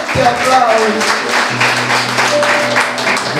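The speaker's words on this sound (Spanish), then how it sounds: "vamos a dar fuerte aplauso" Church congregation applauds a couple at the altar after their vows, a loud sustained burst of clapping with voices and sustained tones mixed underneath.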